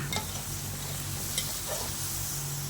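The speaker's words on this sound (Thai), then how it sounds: "เราก็จะผัดให้เข้ากันให้ มะเขือพวงสุกนะคะ" Pork belly curry with pea eggplants and white seasoning sauce is stir-fried in a pan, giving a steady low sizzle with a few soft scrapes of the spatula, fairly quiet and continuous with no talking.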